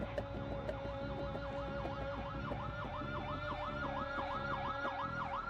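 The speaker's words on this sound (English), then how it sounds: "why is there a police car going off?" A police car siren wails continuously, its pitch sweeping up and down in a fast regular yelp, moderately loud over a steady engine-like rumble, with no talking.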